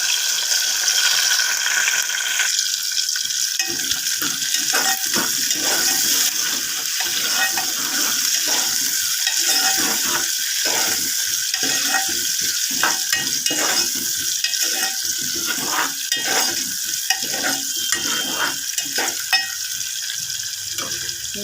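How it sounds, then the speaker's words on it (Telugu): Onions, green chilies and curry leaves fry in a pan with a continuous bright sizzle, while a utensil repeatedly stirs and scrapes through the mixture in an irregular rhythm. "ఈ కాస్త బాగా గోల్డ్ కలర్ వచ్చేదాకా వేయించుకున్నా"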